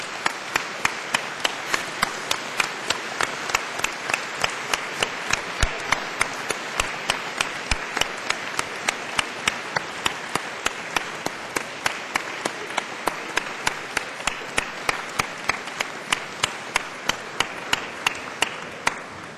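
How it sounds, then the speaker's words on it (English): A crowd at a university graduation ceremony claps for the graduates, sharp hand claps ringing out against a broad wash of applause that holds steady throughout. "show your appreciation by giving them all a big round of applause to say a very public thank you"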